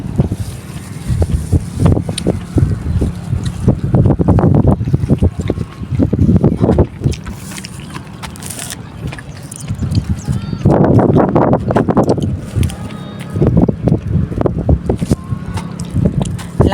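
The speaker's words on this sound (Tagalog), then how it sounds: "Lakas ng hangin" Strong seaside wind buffets the microphone in loud, gusty low rumbles that rise and fall throughout, with intermittent bursts of thumping noise.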